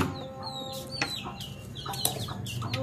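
Hen clucking repeatedly in a farmyard coop, close and fairly loud, with short irregular calls and a few sharper squawks over steady background noise; no one talks.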